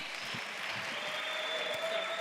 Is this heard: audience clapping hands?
yes